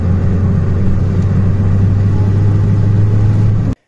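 A car engine revs steadily while a homemade electric turbo spools up and builds boost, a loud, continuous droning hum that holds near and constant before cutting off abruptly.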